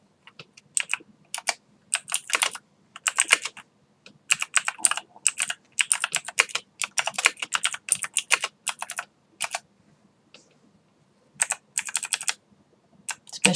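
Bursts of quick keystrokes on a computer keyboard as a Linux command is entered, close and clear, with brief pauses between flurries and no voice over the clatter.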